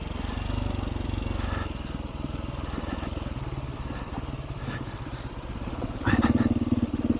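A two-wheeled dirt bike engine chugging close and steady along a narrow ATV trail, its rough low putter swelling louder as the throttle opens near the end.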